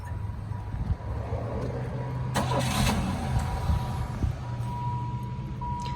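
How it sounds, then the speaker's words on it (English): A Chevrolet Lumina engine cranks over with a steady, rhythmic GM starter whir for a few seconds, loud and close, then settles into a low rumble. "they've all got a distinct like starter sound."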